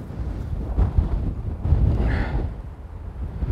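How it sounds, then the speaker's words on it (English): Strong gusting wind on a golf course at Crook Golf Club on New Year's Day, buffeting the microphone as a steady low roar with louder surges. "My God, it's windy here at Crook."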